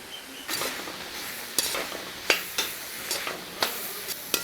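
Onion filling for samosas sautéing in a pan, soft sizzling broken by repeated sharp scrapes and clinks of a spoon stirring, close and fairly quiet with no talk.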